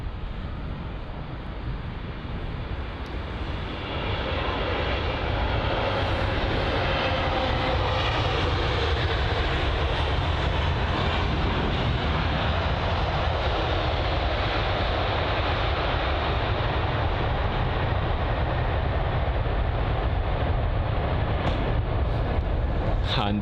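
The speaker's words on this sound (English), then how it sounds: "But arriving from Austin is this British Airways A350." A British Airways Airbus A350 arrives and lands at London Heathrow. Its jet engines make a broad, roaring rush that swells and holds loud for many seconds, with a voice talking faintly underneath.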